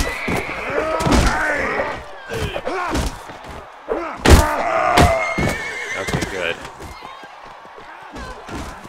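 Horses neighing and whinnying in the medieval combat game Mount and Blade Warband, several loud bursts amid thuds and clattering hooves, with someone talking over the action.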